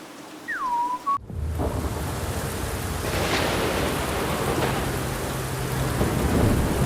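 Steady heavy rain pours down on a dark night in the video game Aliens: Dark Descent, with rumbling thunder throughout and a short whistled tune near the start before the downpour swells.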